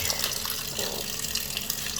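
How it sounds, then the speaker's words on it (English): Cold water pours in a loud, steady hiss and splash over hot French fries in a kitchen, a continuous rush heard up close without talk. "I will continue to pour some cold water onto my fries so that their cooking process stops."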